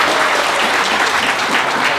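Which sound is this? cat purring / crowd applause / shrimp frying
crowd applause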